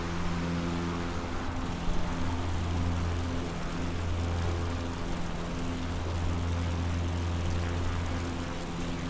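A Husky A1-C propeller aircraft engine drones steadily in Microsoft Flight Simulator 2020 over Tasmania, a loud continuous hum with a fixed propeller pitch that does not change, with no speech.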